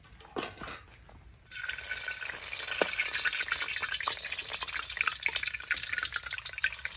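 Mulberry leaves fry in hot oil with a loud, dense crackling sizzle up close, which starts suddenly after a brief quieter moment and then keeps spitting and popping steadily.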